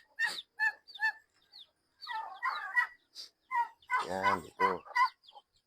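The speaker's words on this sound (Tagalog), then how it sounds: "Ito na yung aking manok." Small Black Australorp and Hubbard cross chickens in a backyard coop giving short, close clucks and calls in quick bursts, with someone speaking briefly among them.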